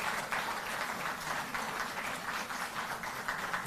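Crowd clapping at a political event in Delhi, a fairly even wash of applause at moderate level, slightly distant, with no clear speech over it.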